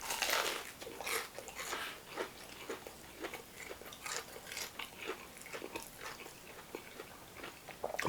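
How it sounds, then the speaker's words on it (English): Crunchy, airy fried potatoes bitten and chewed close up, a run of crisp crunches and chewing clicks repeating over several seconds with no talking. "the potatoes are just like, they're so perfect. Like, airy, crunchy."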